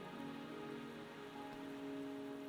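Rain falls in Wuthering Waves as a soft, steady patter and hiss, quiet and continuous beneath gentle tonal music.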